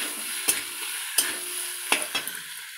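Masala paste being stir-fried in a cooking pan, with a steady soft sizzle broken by four or five sharp scraping strokes of the spoon, close up with no talking.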